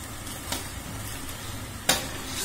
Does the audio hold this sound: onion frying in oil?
yes